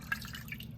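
Beef broth going into a Dutch oven of corned beef, heard as faint light drips and small liquid splashes, quiet and brief.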